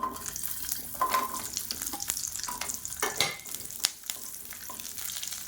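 Small whole onions and pieces of asafoetida frying in hot oil, a soft continuous sizzle with scattered stirring clicks and scrapes, fairly quiet and without talk.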